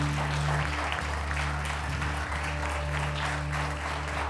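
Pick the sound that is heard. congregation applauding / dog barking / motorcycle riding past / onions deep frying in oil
congregation applauding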